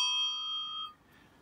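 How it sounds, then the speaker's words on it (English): A Chinese ding-dong bell on a vintage Sparta Dutch three-speed bicycle rings once, a clear, close metallic strike that decays over about a second. "Chinese ding-dong bell."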